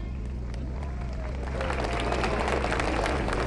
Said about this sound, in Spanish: Aplauso para nuestro número musical.